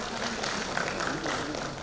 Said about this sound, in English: A big round of applause for all the chairpersons.